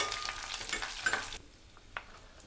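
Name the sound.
tempering with dried red chillies sizzling in a pan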